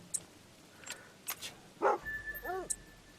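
A dog in the hunting game Call of the Wild gives a few short yips and whimpering barks near the end, after some sparse clicks and thumps in a quiet scene.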